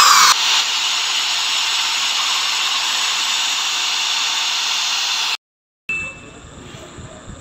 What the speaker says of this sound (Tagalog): So bubutasan ko na po ito.